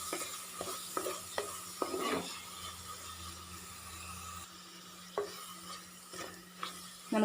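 Cooked jackfruit is stirred into coconut oil in a pan, giving faint sizzling beneath scattered scraping and clinking strokes of a spoon against the pan, spaced irregularly over a quiet kitchen background.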